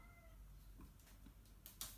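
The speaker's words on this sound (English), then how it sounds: "My cat." A house cat gives a short meow at the start, faint and fairly close, followed by soft rustling and a couple of brief sharp noises in an otherwise quiet room.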